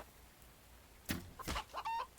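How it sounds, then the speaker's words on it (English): A chicken in a video game clucks in a few short bursts, moderately near, with faint background hum and no talk. "Hello, chicken."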